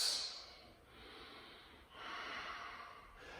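Slow breathing during a yoga neck stretch in a live-streamed class: a sharp nasal intake at the start, then two long, steady breaths close to the microphone, with no talking.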